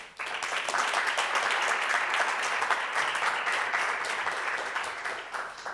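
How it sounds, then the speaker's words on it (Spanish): Sustained audience applause fills a room after a presentation at a quantum-technology investment forum, a steady dense wash of many hands clapping at even loudness with no talk over it. "Aplausos por allí también."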